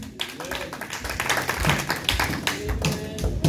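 A church congregation applauding, dense steady hand clapping with rhythmic pulses running throughout, fairly close and full.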